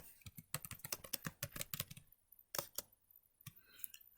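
Someone types a name on a computer keyboard, producing a quick, uneven run of close, crisp key clicks with brief pauses between bursts and no talking.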